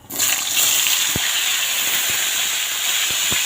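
Cauliflower and potato pieces go into hot oil tempered with whole cumin and bay leaf, giving a loud, steady hiss and sizzle with a few soft low knocks from the pan.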